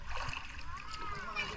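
A child swimming and splashing in water, with brief splashes and water movement under overlapping voices and excited chatter.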